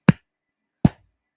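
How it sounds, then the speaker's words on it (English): Two sharp, separate hand claps about 0.8 seconds apart, close and fairly loud, with silence around them. "As I clap my hands,"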